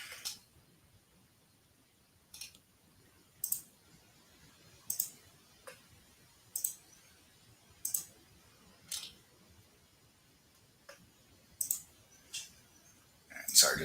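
A computer mouse clicks around ten times at uneven intervals, crisp and close, over a faint quiet background.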